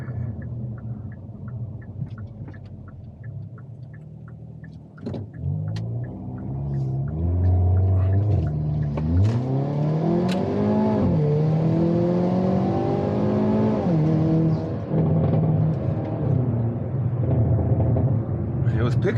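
A Hyundai Kona N in N mode accelerates hard on a rural road, its engine note rising through gears with shifts and an odd intake sound, loud and close inside the cabin, with occasional talk over it.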